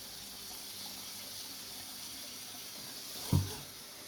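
Running tap water pours steadily over a tie-dyed shirt as it is rinsed, a soft even flow with one brief louder splash near the end.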